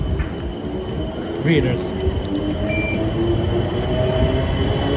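A London tram at Wimbledon rumbles close by with rolling wheel noise, a few squealing tones and short rattles, loud and continuous, while a voice speaks briefly over it.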